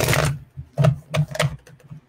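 Tarot cards shuffle in a few quick, papery riffles and soft flicks, close to the microphone, separated by short pauses, with no talking.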